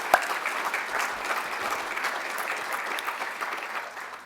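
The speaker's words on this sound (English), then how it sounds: "Let's just give him a round of applause," Audience applause fills a hall of honor ceremony for athletics inductees, a steady, dense clapping held at even loudness throughout with no voices over it.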